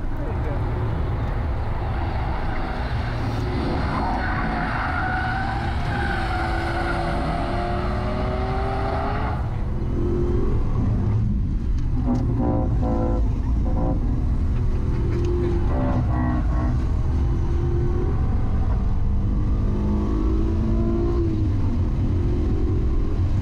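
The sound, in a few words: car engine growl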